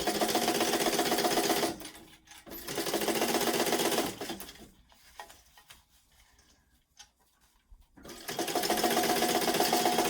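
A sewing machine stitches a Carmen Weekender travel bag seam at a 3/8-inch allowance, running in two steady loud bursts at the start and middle, then a quieter stretch of faint handling clicks before the motor whirs again at the end.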